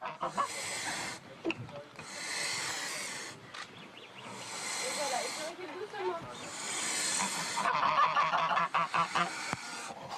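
Loud hissing and harsh honking from a pair of geese with a gosling in bursts, close by, with some voices and rustling mixed in between.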